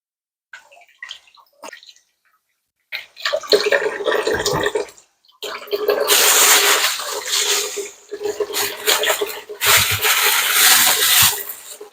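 Water running and splashing as sweet potatoes are rinsed under a tap, loud and close, in uneven bursts with brief pauses and a few quieter handling noises at the start.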